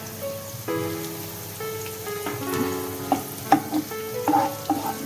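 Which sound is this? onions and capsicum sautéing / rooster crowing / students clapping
onions and capsicum sautéing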